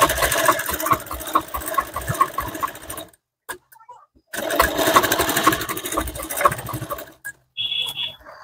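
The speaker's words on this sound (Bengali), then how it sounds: "এই সোজা একটা সেলাই দিতে হবে, সুন্দর দেখার জন্য, সুন্দরভাবে এটা বসার জন্য।" A sewing machine stitches blouse fabric in a steady, close, rapid mechanical whir. It runs in two bursts with short pauses between them, and a brief higher tone follows near the end.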